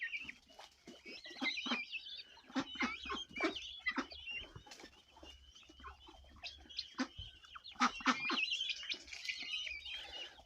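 Busy chatter of chickens and guinea fowl in a yard: clucks, squawks and chirping calls overlap continuously at moderate distance, with sharp piercing cries rising now and then.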